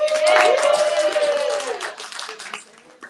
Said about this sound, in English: Can we get a round of applause for Sylvia?